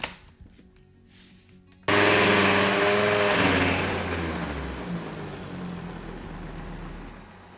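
A Ninja Creami machine starts abruptly and spins a tub of frozen praline gelato, a loud steady whirring grind with a shifting low hum that eases slightly as it runs, heard close with no talk.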